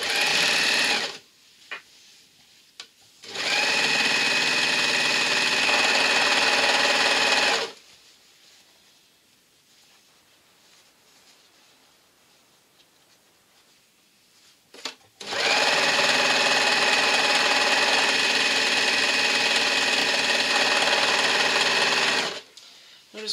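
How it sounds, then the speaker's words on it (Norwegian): A sewing machine stitches the seam of a raglan sweater in two long, steady bursts of loud, even whirring, separated by a quiet pause. Faint handling noises sit in the gaps. "Dette syr jeg med vanlig symaskin etterpå."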